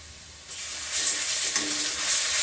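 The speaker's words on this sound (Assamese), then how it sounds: "আদা নহৰু দি 2 মিনিটমান মই ভাজি ল'ম" Ginger-garlic paste dropped into hot oil with browned onions for a meat biryani, a quiet start that jumps into a loud, hissing sizzle which carries on steadily, close by, with no talking.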